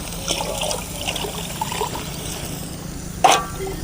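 Two vessels of water poured into a cooking pot for ragi kali, a soft continuous trickle and dribble with a brief, louder splash near the end.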